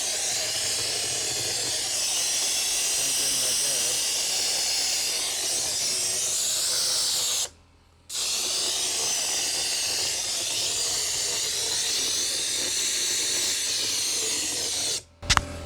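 An air-powered hopper sprayer blows a concrete texture coat onto a stone-look corner, a loud, steady hissing rush that stops briefly midway, resumes, then cuts off near the end.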